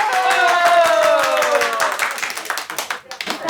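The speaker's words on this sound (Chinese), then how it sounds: "掌声鼓励。" An audience at a community harvest event claps; scattered applause builds in the second half under a voice.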